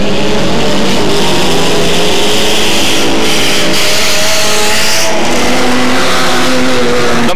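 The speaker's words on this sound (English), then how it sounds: "That's Hot Rod Racing for you." Hot rod race cars at a 1996 track meeting roar loud and continuous, engines droning and revving as the pack races together around the circuit.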